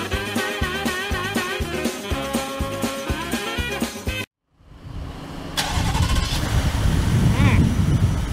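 A Ford truck engine cranks and fires up after a brief silence, the rumble building and settling into a steady, fairly loud idle at close range, following a stretch of music.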